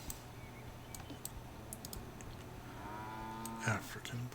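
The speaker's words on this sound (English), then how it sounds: "African buffalo." An African buffalo in a zoo video game gives a low, drawn-out lowing call late in the moment, over faint clicking and background talk.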